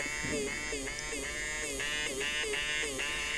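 A small electric eraser buzzes in repeated short pulses, its whine rising and falling as it is pressed and lifted against paper, close and fairly quiet.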